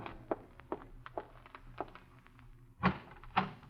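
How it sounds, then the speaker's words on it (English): A door opens in a 1947 radio drama. Soft footstep-like thumps lead up to two louder knocks and thunks of the door near the end, with no talk. "Then you walk over, open the door to her room, leave it ajar"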